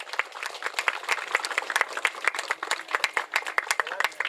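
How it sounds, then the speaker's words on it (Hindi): Applause at a public ceremony marking Ashok Vijayadashami in Patna, a crowd clapping loudly and raggedly in dense overlapping claps that continue throughout. "इनके लिए एक जोरदार ताली हो जाए।"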